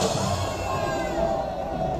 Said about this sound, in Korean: 스스로 수고 많이 하셨다고 박수 한번 쳐보십시오